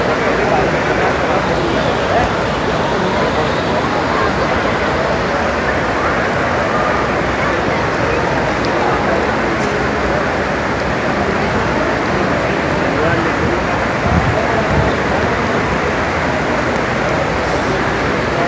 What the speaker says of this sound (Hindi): अचानक नमाज़ पढ़ते ही फुल मूसलाधार बारिश शुरू हो चुकी है